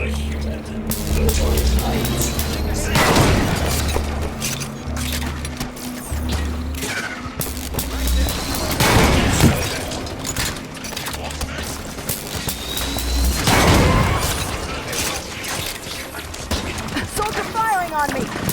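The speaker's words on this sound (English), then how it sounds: "Soldier firing on me." Enemy soldier gunfire in Halo 5: Guardians, heard as bursts of shots and crashing impacts at roughly 3, 9 and 13.5 seconds over a steady rumbling game soundscape, with other battle noise throughout.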